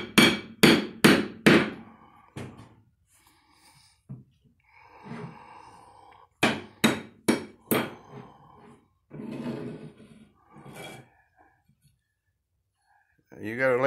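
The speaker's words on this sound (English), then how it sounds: "You hammer it with this, okay?" Repeated hammer blows driving a nail into a wooden board, two loud bursts of four sharp strikes each, with an adult talking in between.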